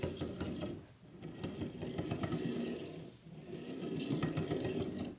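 StudioFX Cineslider camera slider carriage rolling along its rail with an uneven, catching mechanical rattle, steady and close, briefly dipping twice as the motion pauses.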